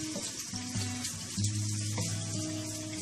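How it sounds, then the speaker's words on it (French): A small amount of water poured into cheese rice in a pan, giving a steady splashing, sizzling wash of sound up close with faint tonal hum underneath. "On ajoute un peu d'eau."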